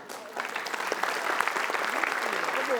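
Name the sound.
studio audience applause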